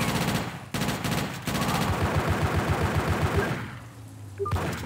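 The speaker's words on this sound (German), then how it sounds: "Boah, was ist das für eine Ballerei hier, ey?" Rapid bursts of automatic gunfire in the video game GTA Chinatown Wars, loud and close, firing in quick repeated volleys with brief gaps and no talking.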